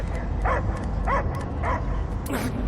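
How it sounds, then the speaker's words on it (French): Within the Guardians of the Galaxy video game, a dog barks about four times in a regular rhythm, up close and clear, over a rumbling low background, with game voices around. "J'entends que des aboiements!"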